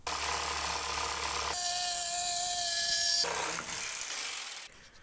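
A jigsaw cuts a small piece of wood, its steady buzzing whine rising loud for a couple of seconds between quieter workshop noise, heard alone without talk.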